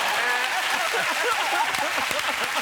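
Applause from a TV studio audience, steady broadband clapping throughout with some voices mixed in.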